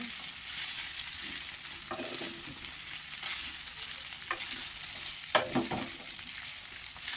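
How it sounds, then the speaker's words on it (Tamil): Ivy gourd poriyal sautéing in a pan, a quiet continuous sizzle with occasional spoon stirs and one clear scrape of utensil against metal partway through. "எல்லாத்தையும் ஒன்றா போட்டு நல்லா வதக்கிக்கோங்க"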